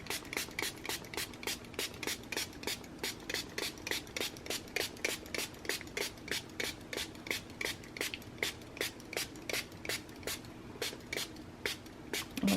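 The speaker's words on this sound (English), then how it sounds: "I'm going to spray the paper first" A spray bottle pumps in a fast, steady rhythm, dozens of short hissing squirts onto paper for coffee staining, close and fairly quiet.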